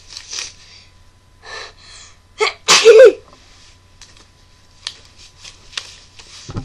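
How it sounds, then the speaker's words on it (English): A single loud, close sneeze bursts out after a few sharp breaths and snorts, followed by quieter rustling and small handling sounds. "that's how I sneeze"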